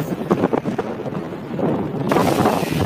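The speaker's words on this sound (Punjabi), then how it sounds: "ਮਿੱਟੀ ਤੇਜ਼ ਹਵਾ ਚੱਲ ਰਹੀ ਹੈ।" Strong dusty wind roars and buffets across open desert ground near a village on the India–Pakistan border in Cholistan, loud and gusting, swelling stronger midway.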